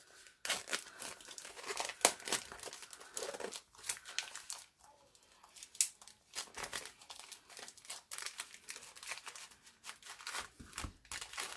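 Crinkly plastic packaging of Stampin' Up! craft products being worked open by hand without scissors, giving close, irregular bursts of crackling and rustling with brief pauses between.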